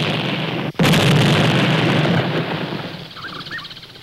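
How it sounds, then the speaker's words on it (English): A big explosion set off for seismic echo-sounding during oil exploration, a sudden loud boom cutting through steady background roar, followed by a long rumbling decay. "We make big explosions and listen for the echoes."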